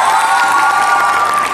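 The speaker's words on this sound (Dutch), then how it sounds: "Geef ze een applaus, onze kandidaat nummer 10." A pageant audience at the Miss Wellness Beauty 2019 finals applauds and cheers for contestant number 10, a loud, sustained wash of crowd cheering and clapping that fills the short moment.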